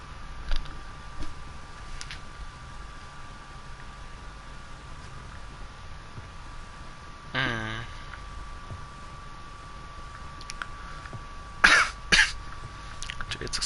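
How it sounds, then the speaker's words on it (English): Two short coughing bursts from one person near the mic, one mid-way and a louder pair toward the end, over a steady low room hum during a livestreamed game session. "my cough is so bad"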